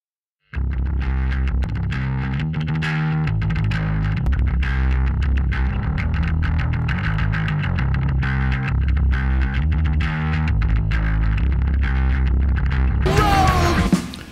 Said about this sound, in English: I'm just using this to bring in the sub frequencies.